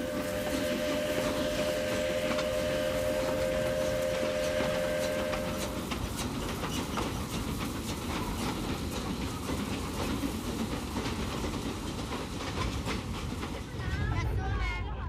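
China's last steam train running on rails, a continuous loud rolling rumble with rhythmic clatter and a steady tone early on, shifting slightly toward the end.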